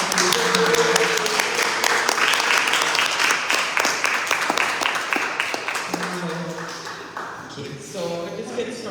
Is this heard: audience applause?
yes